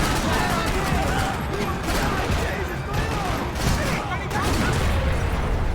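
Continuous gunfire in Max Payne 3 roars in a loud, dense barrage with booms and bursts, while someone talks over the chaos.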